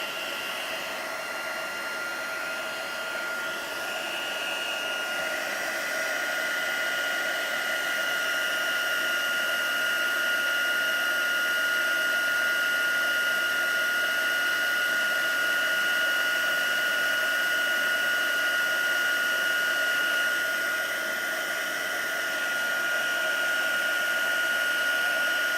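A heat embossing tool blows a constant, loud whirring hiss with a high whine as it heats a stamped card printed with a deer from Stampin' Up's Dashing Deer set, first from one side and then the other.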